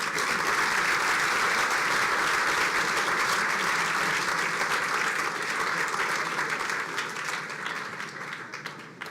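An award-ceremony audience gives a steady, dense round of applause for recipient Mike Petters of Huntington Ingalls Industries, holding level and then tapering off slightly near the end.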